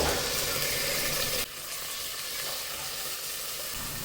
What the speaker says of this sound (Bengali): এখন আমি এখানে বিফ দিয়ে দিচ্ছি